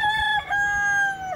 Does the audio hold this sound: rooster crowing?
yes